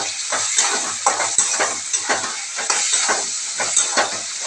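Watermelon peel in mustard-poppy paste with green chilli and sugar, frying in a pan while being stirred: a continuous sizzle broken by repeated scraping strokes of a spatula against the pan, close and clear, with no talk.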